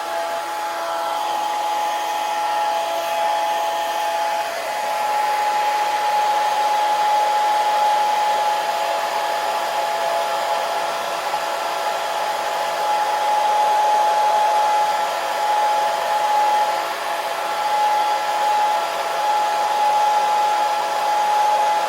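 A hair dryer blows on watercolor paint with a steady, loud whine and rush that runs unbroken and close by the whole time.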